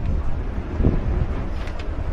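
Gusty wind buffets the microphone in a steady low roar at an outdoor country football elimination final, with no other sound standing out.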